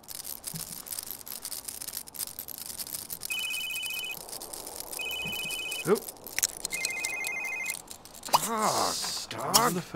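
Telephone ringing in The Sims 3, three electronic synthesized ring bursts repeating at a steady pace over quiet game ambience, with a brief voice near the end.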